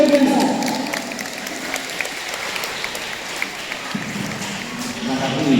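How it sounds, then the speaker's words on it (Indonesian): Applause from a student audience during a school orientation event at a high school in Cilacap, a dense, sustained roar of clapping filling the whole stretch, with a voice briefly audible at the start and again near the end. "Tepuk tangan yang biasa."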